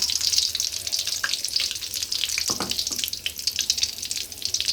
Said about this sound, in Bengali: কাজু বাদাম, পেঁয়াজটাকে সিদ্ধ করছি যাতে কাঁচা গন্ধ না আসে